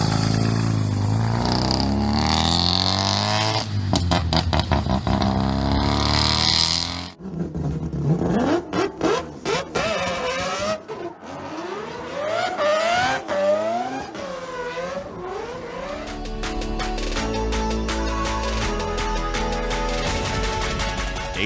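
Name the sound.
Mazda RX-2 rotary engine running and revving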